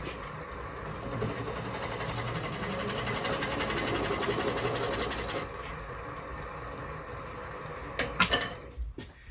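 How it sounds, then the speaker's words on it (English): A scraper is drawn across wood turning on a lathe for a magnifying display box, giving a steady close whirring rasp that eases off after about five seconds and ends with a few sharp knocks. "I'm just going to take a scraper across there and just clean that up"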